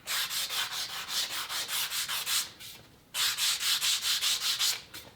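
Old wood is sanded by hand with 100 grit sandpaper in quick, regular back-and-forth strokes, a close rasping scrape that pauses briefly mid-way before resuming at the same brisk rhythm.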